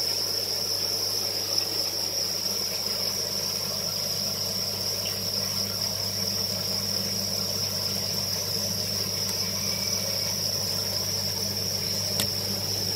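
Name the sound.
crickets chirping at a cricket farm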